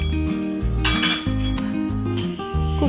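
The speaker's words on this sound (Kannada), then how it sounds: "ಮೊದಲಿಗೆ ಕುಕ್ಕರನ್ನು ಇಡ್ತಿದ್ದೇನೆ." A pressure cooker set down on a gas stove gives a short run of metallic clanks and clinks, close and fairly loud, while cooking mutton biryani.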